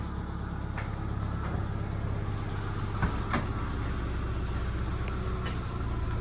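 A Subaru starter motor cranks with a harsh, angry grinding whir, a steady loud mechanical drone with a few sharper clanks near the middle, no voices over it.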